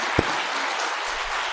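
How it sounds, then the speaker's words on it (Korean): A church congregation at a Christmas thanksgiving service applauds the choir, children dressed as angels and costumed performers, steady crowd clapping throughout with one sharp nearby thump early on. "우리 어린이 천사들과 또 분장한 모든 분들에게 우리 박수합시다."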